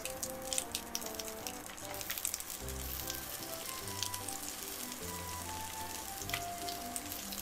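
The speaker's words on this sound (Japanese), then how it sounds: "パプリカを炒めます。" Red bell pepper stir-frying in oil in a pan for a cabbage curry pork-and-potato dish, a steady sizzle and crackle running throughout with faint scraping, fairly quiet and close, no voices.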